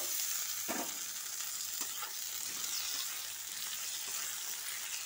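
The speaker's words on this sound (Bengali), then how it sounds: "পেঁয়াজটা নরম হয়ে গেছে, এবার আমি টমেটো দিয়ে দেব।" Tomatoes go into a pan of salted onions already fried soft, giving a steady loud sizzle throughout with occasional stirring scrapes and clatter, no voices.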